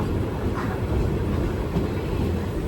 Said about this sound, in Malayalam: 12:36 ട്രെയിൻ ഇപ്പോൾ വള്ളിയൂർ റെയിൽവേ സ്റ്റേഷനിലേക്ക് ഇതാ എത്തുകയാണ്.